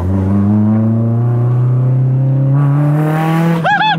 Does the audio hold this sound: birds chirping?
no